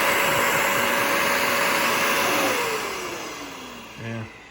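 A Shark CarpetXpert carpet washer with Stain Striker motor runs with a steady loud whine, its pitch sliding down as it slows, then a brief low bump at the end.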